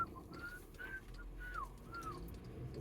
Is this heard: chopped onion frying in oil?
no